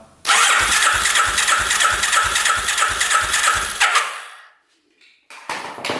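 A 1200cc motorcycle engine cranks over on the starter during a compression test, with loud, rapid, evenly pulsed turning for nearly four seconds. The cranking stops abruptly, a pause follows, then a brief burst of noise.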